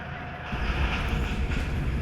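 Train passing in an Indian Bike Driving video game mod at a newly added station: a loud, steady rumbling roar that swells in about half a second and holds for the rest of the clip.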